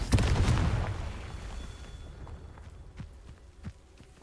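A Confringo fire spell in the video game Hogwarts Legacy: a loud explosive burst at the start that rumbles and fades, followed by quieter scattered footsteps and small impacts.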